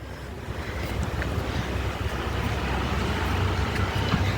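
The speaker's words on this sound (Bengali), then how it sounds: "ঠান্ডা ঠান্ডা হাওয়া দিচ্ছে" Cold evening wind gusts steadily across an outdoor spot near a stone-topped stand, a dense continuous rushing roar with microphone buffeting throughout, no voices.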